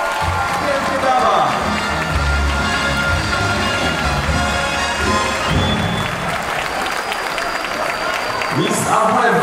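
Applause and cheering from a crowd at a Miss AWF Warszawa 2019 pageant as the winner is crowned, loud and continuous under music and voices in the room.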